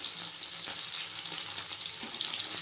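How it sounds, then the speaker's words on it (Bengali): Bata fish frying in oil in a pan, a continuous moderately loud sizzling hiss with small pops and stirring ticks throughout, no one speaking. "তো চলো মাছগুলো ভেজে নিই আমি"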